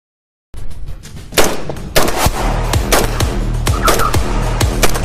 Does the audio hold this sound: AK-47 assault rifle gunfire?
yes